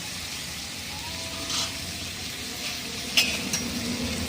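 Tomato stirred into an okra curry in a pan, a steady low frying sizzle with soft scraping strokes and a couple of light utensil clinks near the end.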